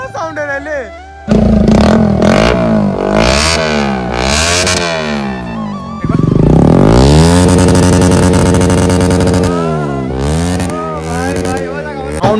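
Close and loud, a Bajaj NS 125 motorcycle with a modified aftermarket exhaust blasts through repeated sharp revs, rising and falling blips followed by a longer sustained rev, with a voice briefly at the start.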